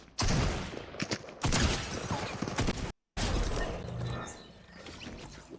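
Shotgun blasts from Fortnite OG Season 3 Zero Build solos, heavy broadband bursts packed densely across the opening seconds, then a brief silent cut before more loud gunfire and game noise resume.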